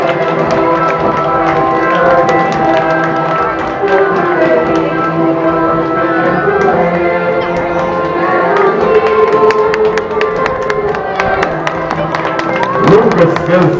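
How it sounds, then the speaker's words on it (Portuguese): Crowd applauding a São João street march by a social centre's group at the Castelo de Paiva festival, steady clapping and cheering sustained throughout with music and a busy crowd beneath it. "Continuamos a aplaudir a marcha do Centro Social de Santa Maria de Serradora."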